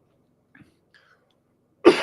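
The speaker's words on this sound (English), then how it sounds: "Damn cough is gonna murder me." A single sharp cough bursts out near the end, close and loud, after a couple of faint throat sounds in an otherwise quiet moment.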